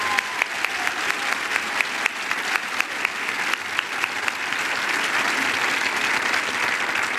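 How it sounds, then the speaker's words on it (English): Sustained audience applause for people on a stage, dense steady clapping with a few sharper claps standing out, continuous for the whole stretch without talk. "I want us to give everyone on this stage a round of applause for their dedication and commitment."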